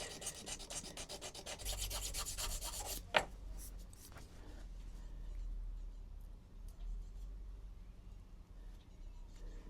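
A fishing rod under repair is rubbed down by hand at close range, giving a steady scratchy sanding rasp that swells and eases over several strokes, with a brief knock partway through and no talking.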